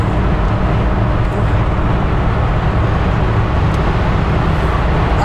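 A Mercedes CL 500 cruising at speed, giving a steady, loud low rumble of engine and road noise that stays constant throughout, with no talk.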